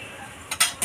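A lid going onto a pot of duck curry on the stove, a couple of short metallic clanks and scrapes over a low background hiss.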